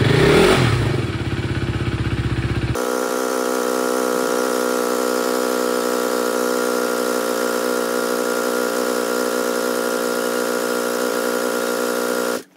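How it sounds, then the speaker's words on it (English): A KTM RC390 motorcycle single-cylinder engine cranks and catches, then settles into a steady, even idle with a buzzy harmonic drone up close before cutting off at the end. "let's start the bike now."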